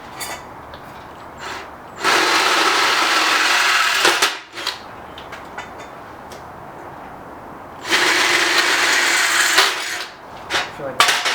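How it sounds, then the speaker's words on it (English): A power drill bores 5/16 inch holes in homemade go kart bumper brackets, two long loud bursts of grinding separated by quieter handling clatter and knocks. "So we're gonna drill out all holes to 5/16."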